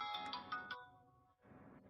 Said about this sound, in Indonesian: akhirnya kita punya nada dering system yang sudah terpasang